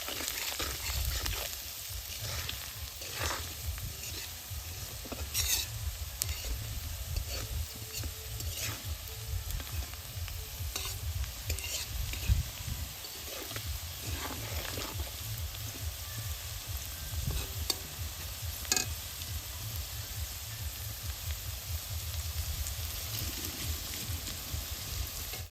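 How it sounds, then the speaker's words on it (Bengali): Garlic and green chilies stir-fried in mustard oil with salt and turmeric for a coriander-leaf pickle: a continuous sizzle under repeated scraping and tapping from a spoon stirring the pan, with no voices. "বেশ সুন্দর করে আবারও ভাজা নেব।"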